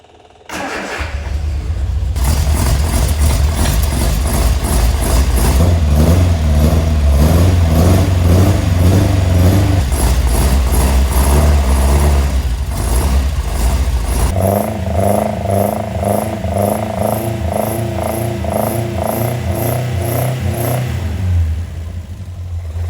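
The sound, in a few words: engine starting and running after starter Bendix reset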